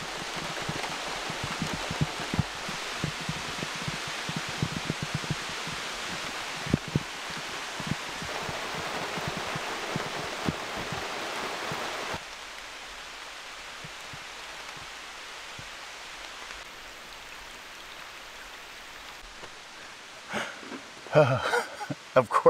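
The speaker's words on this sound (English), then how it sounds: "Here comes that rain again." Storm rain pattering on a car-camping setup, a dense rushing hiss that cuts off abruptly partway, leaving near quiet before faint handling noises close by.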